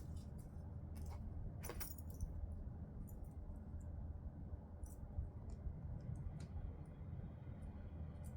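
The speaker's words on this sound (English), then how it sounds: "And we're just going to insert the zippers." Metal zipper pulls jangle in short clinking bursts as they are inserted into a sewing project, small and close over a steady low background hum.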